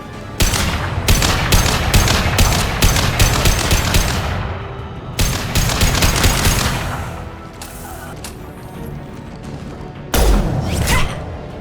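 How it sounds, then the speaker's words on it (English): Rapid rifle gunfire in the Mass Effect 2 video game, loud bursts of repeated shots in three separate volleys with short pauses between them. "I love this rifle."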